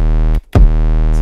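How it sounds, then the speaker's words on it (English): A sustained, loud deep 808 bass tone made in Serum, droning steadily, briefly cutting out and then re-striking with a punchy attack before holding on. "It's a nice knocky kick."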